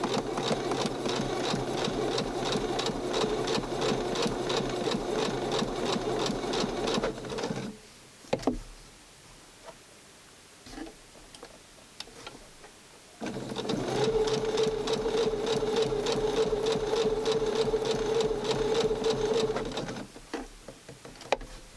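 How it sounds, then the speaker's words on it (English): Sewing machine running seams on Barbie doll clothes, two long runs of steady rapid stitching up close, separated by a quiet pause with light handling noises. "I'm going to close the seam"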